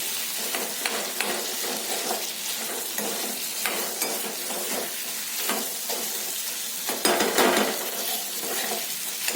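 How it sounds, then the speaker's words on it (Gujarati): Potatoes tipped into a hot pan for a Kathiyawadi potato curry, a spoon scraping and stirring through a steady sizzle, with repeated metallic clinks against the pan up close. "હવે આપણે તેમાં બટેકા એડ કરી દઈશું"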